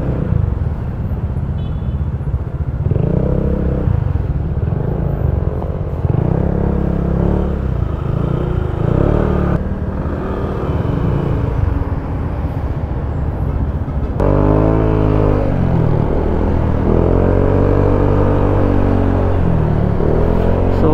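A Honda ADV160 scooter's engine drones continuously while riding with side panniers fitted, its pitch rising and falling through repeated throttle swells, loud and close for the whole stretch.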